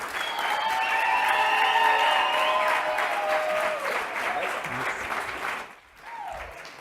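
An audience applauds and cheers as a speaker comes on stage at a Happiness Hall of Fame event, sustained clapping with high whoops and shouts over it, fading out near the end before a brief voice.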